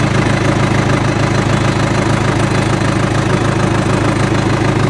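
A John Deere 450 crawler loader with backhoe idles at low throttle, its engine a steady, loud, close rumble with an even mechanical knock throughout and no pauses.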